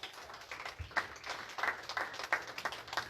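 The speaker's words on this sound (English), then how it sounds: "Round of applause for Bridget's husband." A small crowd at a bobblehead victory party claps in a faint, sparse round of applause, individual hand claps distinct and somewhat distant.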